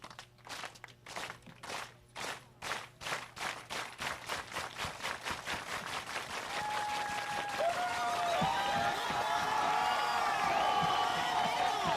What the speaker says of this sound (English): Let's do the union clap, union brothers and sisters.